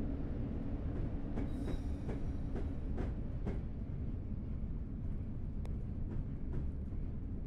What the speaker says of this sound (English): I think we need to wait on another train that is passing us.